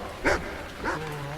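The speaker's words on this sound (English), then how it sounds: "the dog's just hanging out there" A dog in the video game The Cave gives two short, close barks or yips about half a second apart, with a faint low tone trailing after.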